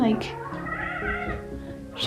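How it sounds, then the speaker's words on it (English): A cat meows close by, with drawn-out pitched cries at the start and near the end over a quiet indoor background. "this is my cat again"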